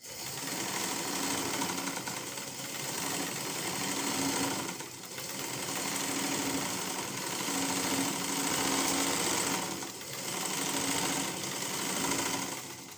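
A black sewing machine stitches cord embroidery with a steady, fast, close mechanical whirring chatter that briefly dips twice and then resumes at full speed.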